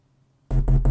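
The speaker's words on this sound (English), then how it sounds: "they are kind of glitchy little sounds which sound like this." Glitchy little electronic answer sounds in a music track, silence then three rapid stuttering bursts with punchy low end and a bright high tone, loud and close, with no voices.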